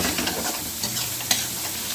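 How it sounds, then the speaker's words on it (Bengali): A spice paste of turmeric and chili powder fries in oil for fish kaliya, a close, steady sizzle with soft scraping as a spatula stirs it and one sharper knock against the pan, with no voices. "আমি ভালোভাবে মশলাটাকে কষিয়ে নেব। যতক্ষণ না তেল ছাড়ছে ততক্ষণ কষিয়ে নেব"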